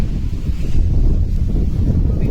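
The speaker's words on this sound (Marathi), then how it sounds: "आमचा डोंगर असल्यामुळे त्यांना बेकार वारा सुटते" Strong wind gusts steadily across a Konkan hillside, a loud continuous roar buffeting the microphone throughout.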